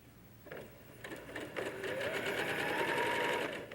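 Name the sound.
sewing machine stitching quilt strips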